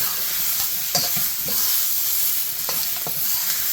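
Capsicum and tomatoes sizzle steadily in a hot pan while being stirred, with a constant frying hiss punctuated by soft scraping clicks of the spoon; no voices.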